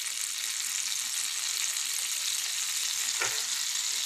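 Ajwain (carom seeds) sizzle in a hot pan with a bright, dense, continuous crackle, close and steady, with one brief knock near the end.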